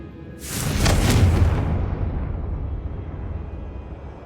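The Confringo blasting spell detonates in Hogwarts Legacy: a single loud, close explosion with a sharp onset and a long rumbling decay.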